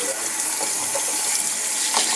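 Water streams steadily from a tap as hands are washed during home cooking of a Flaming Hot Cheetos chicken sandwich, a constant close splashing hiss with no talk.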